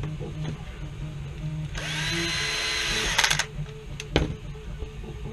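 Power drill driving a 3/4 inch screw to fasten a plunger head onto a Nerf blaster, a steady close whine for over a second followed by a few short clicks and bumps.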